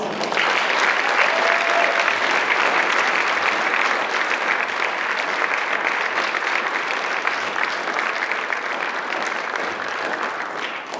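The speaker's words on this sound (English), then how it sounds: "Please join me once again in applauding all of our new Honor Society members." An audience applauds new National Honor Society members at a high school induction ceremony, a full, steady wash of many hands clapping for about eleven seconds that eases slightly toward the end.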